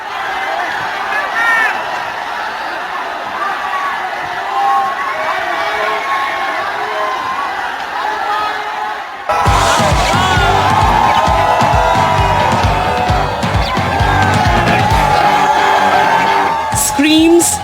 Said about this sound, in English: Screams, cheers and chants.